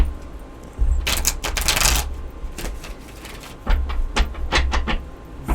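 Tarot cards being shuffled in quick riffling bursts, crisp fluttering clatter close by, with a low steady hum underneath.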